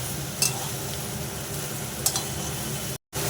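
Ridge gourd pieces stirred in a frying pan, a steady sizzle under soft scraping with a couple of sharper clinks of the spatula, close and continuous with a brief dropout near the end.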